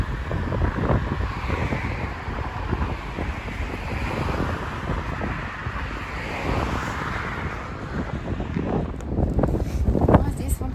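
Gusty wind on a road up a hill in Croatia buffets the microphone in a constant rough roar, swelling louder near the end.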